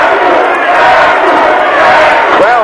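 A wrestling crowd at a Hangman's Horror match yells loudly for wrestler Sabu, a dense continuous roar of many voices close and steady throughout, with a commentator's voice rising briefly near the end.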